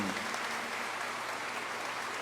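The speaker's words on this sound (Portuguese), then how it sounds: "o povo vai bater uma salva de palmas para vocês" A church congregation at Sunday Mass gives a round of applause, a brief, soft, continuous patter of many hands heard from a distance.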